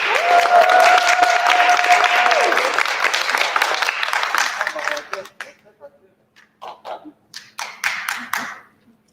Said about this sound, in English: Appreciate you, whoever you were that kept clapping.